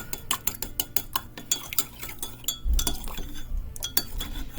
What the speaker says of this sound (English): Then we're going to start stirring it. And you want to get it really stirred.